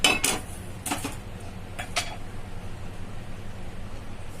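A metal kadai clatters onto a stove burner, ready for tempering pachi pulusu: a sharp clank up front, then a few lighter knocks around one and two seconds, fading into low room hum.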